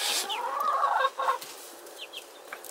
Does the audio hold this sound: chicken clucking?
yes